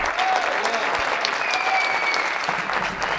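An audience at a May Day concert of memorialist singer-songwriters applauds a performer in a sustained burst of clapping, with some voices mixed in under the dense, even clatter.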